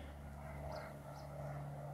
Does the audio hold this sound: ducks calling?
no